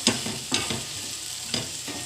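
Garlic sautéing briefly in a hot pan, a soft continuous sizzle punctuated by a few light stirring scrapes spaced unevenly, close and without talk.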